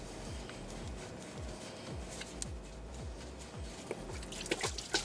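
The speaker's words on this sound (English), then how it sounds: "go ahead and remove the hose. Make sure you have a drip tray on the bottom, that way it catches all your antifreeze." Antifreeze drips from a removed radiator hose on a 2007–2014 Cadillac Escalade into a drip tray below, a steady series of small close taps and trickles repeating roughly every half second with no talk.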